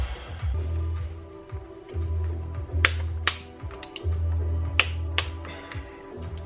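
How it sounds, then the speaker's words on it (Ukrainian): Wrench work on the engine bolts of a Beta RR 200 motorcycle during a piston change, sharp metallic clicks and ratchet ticks scattered over a low hum, close and irregular. "Ставимо ключ на 20 і протягуємо заново."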